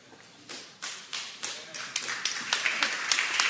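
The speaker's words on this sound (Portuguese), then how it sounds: "Tem que aplaudir Jesus" A church congregation claps for Jesus during a faith service, sharp scattered claps that start sparse and quiet, then grow denser and louder into a rhythmic beat.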